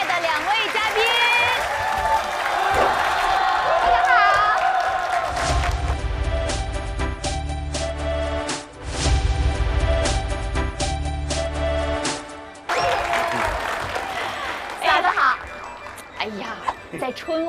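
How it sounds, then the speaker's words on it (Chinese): Studio audience applause welcoming two guests at a televised Chinese Spring Festival gala countdown show, broad sustained clapping under host speech and music, with bursts of louder crowd noise in the middle. "那接下来让我们用热烈的掌声欢迎我们非常熟悉又喜爱的两位嘉宾。"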